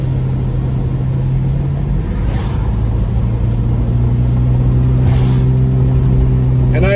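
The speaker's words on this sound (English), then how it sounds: "But I am driving 5 miles per hour over the speed limit." A car travels along snowy Highway 18 near Big Bear Lake, California, with a steady low road rumble and droning engine hum from inside the cabin, continuous and even throughout.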